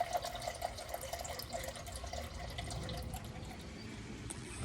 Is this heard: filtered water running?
yes